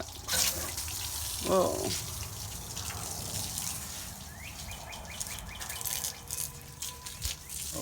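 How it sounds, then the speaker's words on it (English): Tap water runs in a home while a no-hot-water problem is being fixed, a steady wash with a few drips and clatters, and a person briefly exclaims over it. "You want me to turn off the water?"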